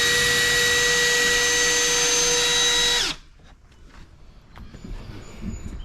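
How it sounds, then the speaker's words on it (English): A power drill bores a pilot hole through a wall for hot tub wiring, a loud steady high whine for about three seconds that stops abruptly, followed by faint handling noises. "So let's just do a pilot hole right here."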